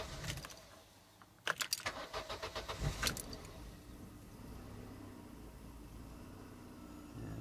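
A Vauxhall Zafira engine starts after an EGR valve replacement, with a burst of cranking and clattering revs before settling into a steady, fairly quiet idle.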